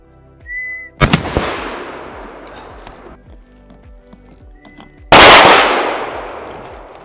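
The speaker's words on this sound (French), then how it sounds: "on a tiré, on a fait une salve au sifflet" A sharp whistle blast, then a volley of loud shotgun shots from wood pigeon hunters firing together, cracking close together, a pause with footsteps, and another heavy burst of gunfire echoing away.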